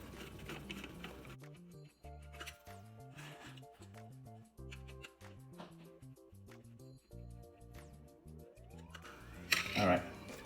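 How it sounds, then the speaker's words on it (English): Small screws are backed out of a Sunter vanity mirror light, heard as close clicks, ratcheting and light metallic taps in an irregular sequence, with a brief louder rustle near the end and no talking. "we're going to take these screws off"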